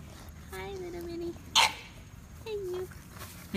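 Puppy giving a few short high whining yips and small barks nearby, separated by pauses, with a sharp clatter between them and quiet background noise.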